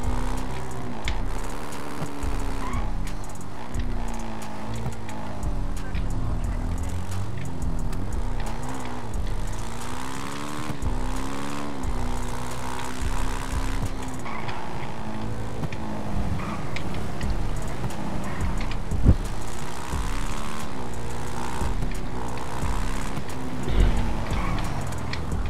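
Engine of a small motorbike in the GTA RP video game, droning steadily and shifting in pitch as it revs and slows, close and continuous.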